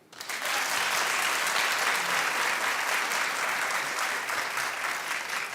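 A studio audience claps together in agreement during a talk show segment, a dense, steady wash of applause that starts abruptly and holds loud and full throughout.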